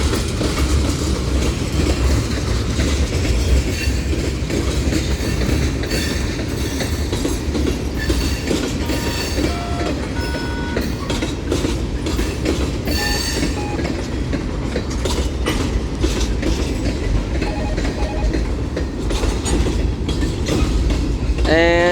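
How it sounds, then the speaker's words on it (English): A New Orleans Public Belt freight train rolls past at the Central Avenue crossing in Metairie, loud and close, with steady clickety-clack of wheels over rail joints and occasional squeals, continuing throughout without talk. "And there goes the end of train number 1 of today in Metairie at Central Avenue, New Orleans Public Belt."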